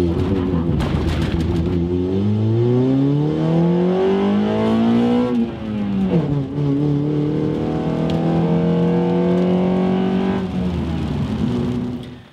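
A Honda engine revs hard up through VTEC, its pitch climbing in long sweeping harmonics, dipping briefly and climbing again, loud and close with no one talking.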